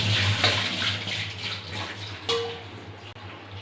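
Water runs steadily from a kitchen tap while mushrooms are washed, a constant close splashing rush with small clinks and shifts as the mushrooms are handled.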